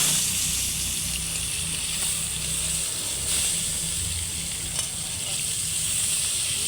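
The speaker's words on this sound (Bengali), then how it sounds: "মাছের কাঁটাগুলো ভাজা হয়ে গেছে" Bhetki fish bones fry in hot oil with a steady, close, continuous sizzle and hiss that holds for several seconds, with low background rumble and no voices.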